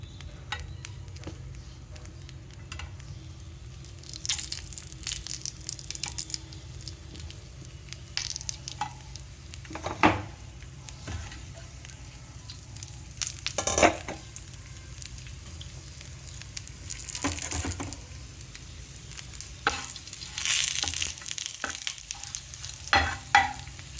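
Pieces of murrel fish fry in a little oil on a flat pan over a stove, a soft continuous sizzle broken by occasional sharper pops and crackles, close and fairly quiet.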